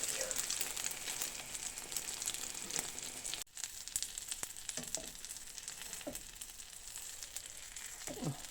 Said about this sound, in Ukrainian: Тут все готове, тільки щоб гарненько прогрілося і кляр обсмажився.